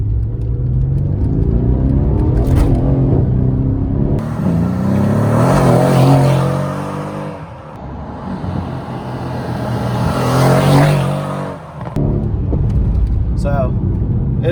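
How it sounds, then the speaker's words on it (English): A Mercedes-AMG C63 S rear-wheel-drive engine revs up hard through the gears from second gear, its roar climbing in pitch, dropping briefly at a shift, then building again loudly. "All right, so we're gonna do a little pull. I'll start in second gear."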